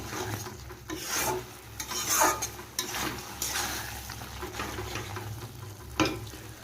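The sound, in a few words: taro leaves cooking in oil in a pan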